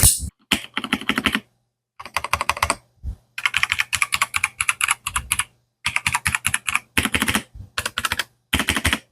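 Bursts of typing on an ARZOPA K81 compact soft-key mechanical gaming keyboard, close and fairly loud, with quick runs of muted keystrokes separated by short pauses.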